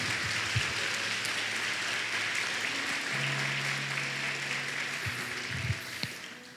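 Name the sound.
congregation applauding God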